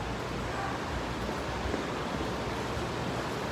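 A small indoor waterfall in the Zhongshan Metro Mall in Taipei gives off a steady, even rush of falling water, a continuous hiss filling the space without pauses or talk.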